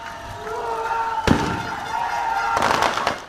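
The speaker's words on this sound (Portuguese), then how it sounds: "Centenas de manifestantes contrários ao líder do PT foram até o local e soltaram fogos de artifício para comemorar a prisão." Fireworks set off by a crowd of protesters crack in sharp, loud bursts, one sudden blast followed by a cluster of rapid pops over a background of crowd noise and a sustained tone.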